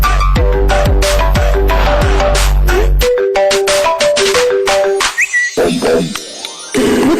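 A phone ringtone plays as an example: a loud, bright electronic melody with a thumping beat, followed by a busier run of synthetic tones, with no voices over it.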